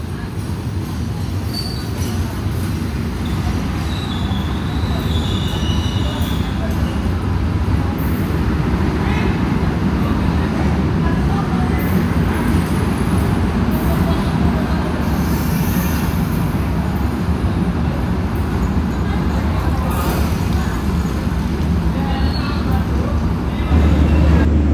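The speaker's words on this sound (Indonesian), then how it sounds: "kereta api Blambangan Express sudah masuk di jalur 1 stasiun Probolinggo" Blambangan Express passenger train pulling into platform 1 at Probolinggo station, a continuous heavy rumble with clanking and station noise throughout, loud and close.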